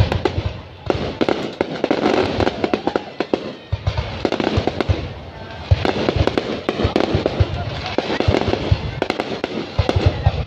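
A large fireworks display at Hà Tiên, with dense, continuous bursts and crackling pops rolling on for several seconds, loud and layered with booming thuds underneath.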